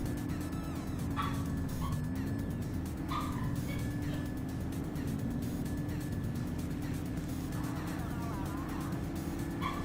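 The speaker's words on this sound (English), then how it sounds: "the dog is going crazy" Within a police video game, a dog barks and yips a few times at a moderate distance, partly masked by a constant low engine drone and game background noise.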